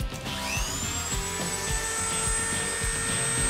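A high-speed rotary tool fitted with a cutter accessory spins up with a rising whine, then holds a steady high pitch as it cuts. Rhythmic grinding pulses run beneath the whine, close and moderately loud.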